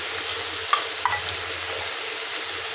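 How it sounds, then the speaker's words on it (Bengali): Turmeric, salt, ginger, dried chilli and cumin-coriander being fried and stirred in a pan for a fish curry with taro and eggplant, with a steady soft sizzle and a couple of brief scraping clinks from the spoon. "হলুদ লবণ দিয়ে কষে নিলাম, মানে ভেজে নিলাম"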